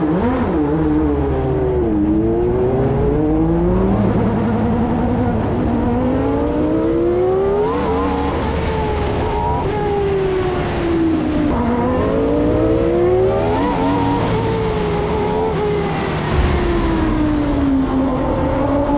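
A high-pitched Formula 1 car engine revs continuously, its pitch sweeping up and down through repeated gear shifts, loud and sustained throughout.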